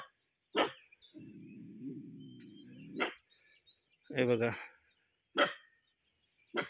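Stray village dogs bark in a few sharp, loud bursts close by, with a longer growling stretch between them, while someone speaks in between.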